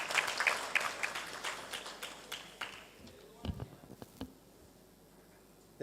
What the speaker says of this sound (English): Big clap for.